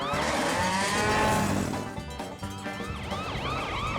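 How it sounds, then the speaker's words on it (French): A loud wailing emergency siren from a PAW Patrol animated rescue vehicle rises and falls in sweeping cycles, mixed with cattle mooing nearby. "mets la sirène en marche"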